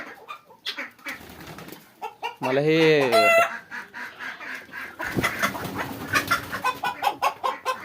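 Chickens clucking, with guinea fowl and turkeys, as they are let out to range freely; a loud rooster-like call rises midway among busy clucks, and someone speaks briefly.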